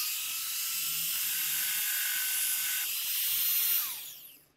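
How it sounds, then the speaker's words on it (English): A band file belt sander fitted with a rubber contact wheel grinds metal, giving a loud, steady, high hiss that runs for several seconds and then fades as the grind stops. "I'm gonna do another little grind right here so you can see the difference between the two"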